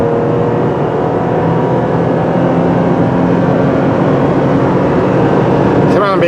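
Engine of a 2020 Toyota Tacoma TRD Pro pickup droning loudly and steadily under acceleration while passing on the road, a constant strained hum filling the cabin with a brief rattle at the end.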